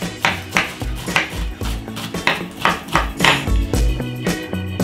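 Onion being chopped with a knife on a cutting board in a home kitchen, a quick steady series of sharp, close knocks with no talking.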